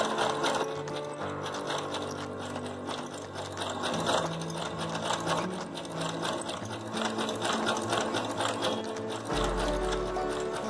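A sewing machine stitches purse pieces together with a zigzag stitch, running as a steady, close mechanical whir and clatter for several seconds with small shifts in pace and no talking.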